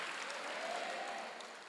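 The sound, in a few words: church congregation applause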